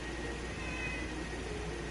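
Cats meowing in a Fallout 4 settlement, a few calls sitting over a steady, dense ambient bed of game background noise without any talk.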